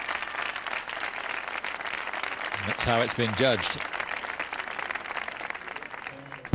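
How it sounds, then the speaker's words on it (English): Audience applause for a group tango at a 2003 European Championship dance semifinal and final, a steady dense clapping that runs through the whole stretch while a commentator talks over it and a brief voiced sound rises midway. "Prolonged applause for the group tango."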